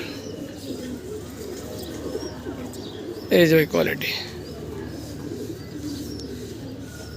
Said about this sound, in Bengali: দর্শক দেখাই দিলাম চমৎকার এক জোড়া কবুতর